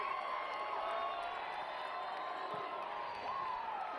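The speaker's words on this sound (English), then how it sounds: "Titan crowd is up, but now the BHS crowd answers" Two rival crowds at a high school football game roar and cheer in a sustained, dense wall of voices with whoops and scattered clapping, loud throughout.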